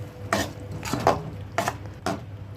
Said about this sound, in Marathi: मी आता थोडीशी कोथिंबीर टाकते याच्यावरती आणि मिक्स करूया आपण